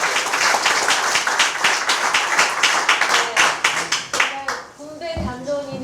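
Audience applause at the founding ceremony of the Freedom and Fairness Forum, a South Korean political forum, loud crisp clapping from a hall crowd that thins and fades toward the end as a voice begins speaking in Korean.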